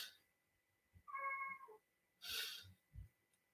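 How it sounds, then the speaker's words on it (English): A cat meows faintly in the background of a quiet room: one drawn-out, wavering meow, then a shorter cry, with soft thumps and shuffling between. "my cat is meowing in the background"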